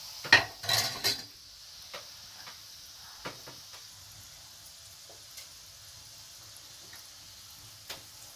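Gulab jamun fry in a pan and are turned now and then, with a faint steady sizzle. Sharp metal clinks of a utensil against the pan come in a quick cluster at first, then sparse single taps.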